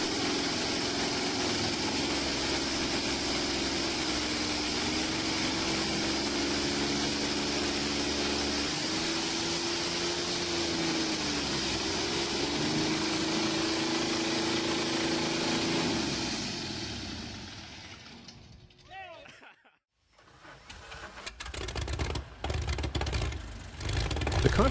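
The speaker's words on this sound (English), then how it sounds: "A notable application is the Cessna 210, where the TSIO 520R ensures dependable power and enhanced flight capability." A Continental TSIO-520-R turbocharged aircraft piston engine, as fitted to the Cessna 210, runs with a steady loud drone that wavers slightly in pitch, then cuts out near the end before a rougher burst of noise returns.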